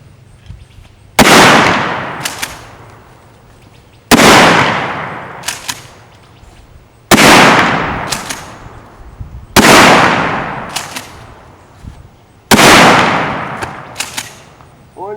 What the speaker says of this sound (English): Can this gun just shoot the fuck out of a lot of things?